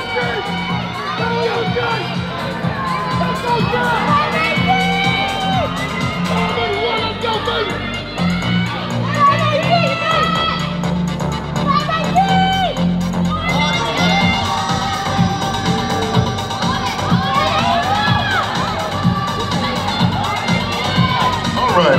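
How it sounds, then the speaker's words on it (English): An audience at a bodybuilding show yells and cheers nonstop, a loud crowd shouting out contestant numbers over music with whoops rising and falling throughout. "Yell out the number of who you want to win."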